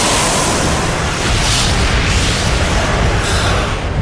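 An ash torrent attack effect from the game Chaotic 77 roars as a loud, dense, unbroken rushing blast that swells slightly midway and holds for several seconds without talk.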